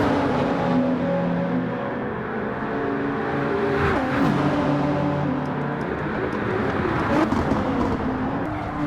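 Nissan GT-R race car in the Gran Turismo 7 video game, a continuous close engine drone with shifting tones as it races, steady and loud without pause.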